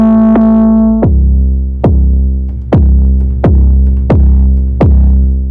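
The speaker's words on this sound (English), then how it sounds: "But that's how the 808 sounds." An 808 bass from the Sublab Chest Exploder preset in the Crushed preset pack booms in a deep sustained series of about six pitch-dropping hits, very loud and alone.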